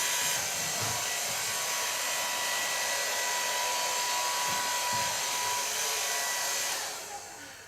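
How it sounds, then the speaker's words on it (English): A hair dryer blows steadily on short curly hair during a softly drying styling session, a loud close continuous whoosh with faint handling bumps that lasts until it fades off at the very end, with no voices. "I'm softly drying the hair in the natural lines"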